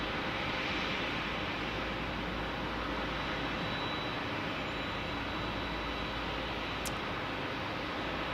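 A Southwest Airlines jet at San Diego airport gives a continuous, loud, broadband roar of jet engine noise that stays even throughout, with no voices.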